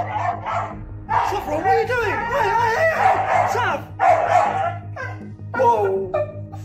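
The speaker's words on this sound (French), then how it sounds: "leur chien Saffron s'est immédiatement précipité vers elle et s'est mis à aboyer" A dog barks and yips excitedly at a doll, sharp bursts mixed with whimpering and howl-like cries, fairly close and loud over a low steady hum, with some voices in the room.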